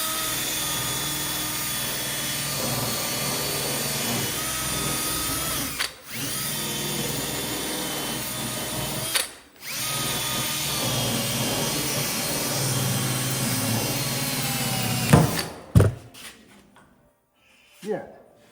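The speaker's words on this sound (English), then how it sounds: "So I'll maybe try and see if I can use this with a drill." A power drill spins a paint-cleaning wheel on a Peterbilt 359 under restoration, a loud steady whine that runs almost continuously for about fifteen seconds with two brief stops, then ends in a few short bursts.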